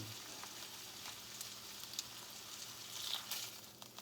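Steak frying in fat in a pan, a steady crackling sizzle with occasional sharper pops, fairly quiet and continuous with no talking.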